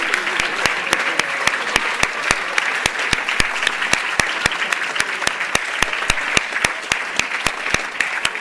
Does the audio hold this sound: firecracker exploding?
no